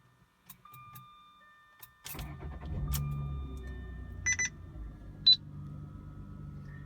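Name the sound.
2007 Jaguar X-Type 3.0 liter V6 engine starting up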